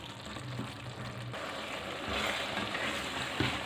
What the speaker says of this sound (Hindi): गरम मसाला डालने के बाद इसको हम कुछ देर के लिए भूनेंगे ऑयल के अंदर